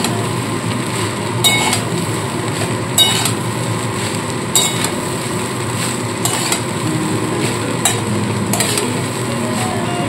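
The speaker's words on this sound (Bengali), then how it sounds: "এবার খুব ভালো করে মিশিয়ে নিতে হবে" Flattened rice poha being stirred in a pan, with a steady scraping churn broken by sharp clinks of the spoon against the pan every second or so, close and fairly loud with no voices.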